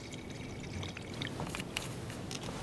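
Water poured into canteens in Life is Strange 2, a soft continuous trickle with light clinks and splashes toward the end, fairly quiet and close.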